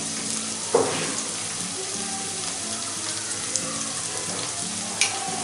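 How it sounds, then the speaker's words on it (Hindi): Steady sizzling of ginger garlic paste frying in a pan, with a few soft clinks of a utensil against the cookware. "और एक बार इसको अच्छे से फ्राई होने देते हैं 1 आध मिनट तक।"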